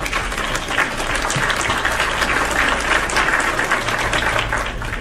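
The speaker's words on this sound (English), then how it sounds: "you get a round of applause" Dense crowd applause, loud and continuous for several seconds, heard on its own without talk.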